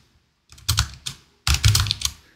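Teacher typing on a computer keyboard during a lesson, two quick close bursts of clattering keystrokes separated by a short pause, with no talking over them.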